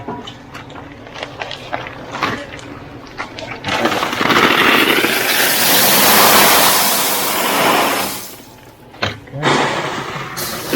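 Barrels of stone dumped onto a held plastic sheet at a house-moving site, a loud sustained rushing clatter lasting several seconds, with bumps and handling noise before and after.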